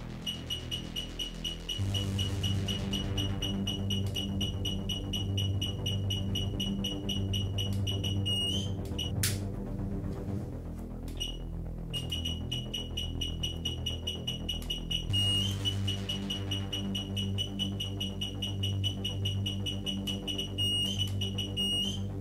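A K2 EMF meter alarm: high, insistent electronic beeping runs continuously, pausing briefly in the middle before resuming, loud and steady with no voices.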